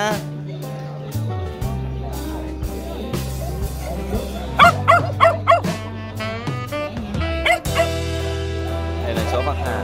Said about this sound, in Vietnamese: Đây là chó Bắc Hà.